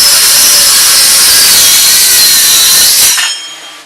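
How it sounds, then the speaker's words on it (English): Power saw cutting wooden boards to rough length, a loud, dense rasping cut that holds steady for three seconds, then drops off sharply as the blade leaves the wood and the motor winds down. "So I'm going to cut these all up to rough lengths"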